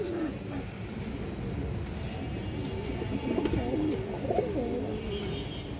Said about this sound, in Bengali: পিছনেটা নর কবুতর দর্শক, এই যে সামনেটা মাদি কবুতরটা